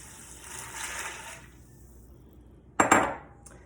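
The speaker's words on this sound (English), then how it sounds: "I'm just adding broth today because it actually adds more flavor." Broth poured into an Instant Pot makes a soft, near liquid splash for about a second and a half, then after a pause a sharp metallic clank of the pot rings out. No one speaks.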